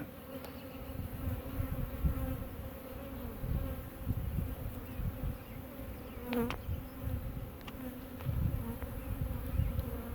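A dense, steady buzz of many honey bees swarming close by around a hive, a continuous droning hum with a few louder insects passing near, no voices.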